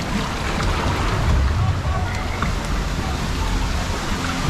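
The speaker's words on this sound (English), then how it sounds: "Oh, waterfall." A steady broadband rush of falling water fills the scene at a theme park's Austrian-themed area, loud and continuous without pause, with no clear voices above it.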